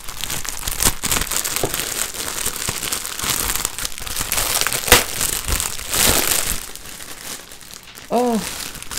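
Continuous crinkling and tearing of plastic packaging as a t-shirt from a Wootbox subscription box is unwrapped, loud and close, with a brief exclamation near the end.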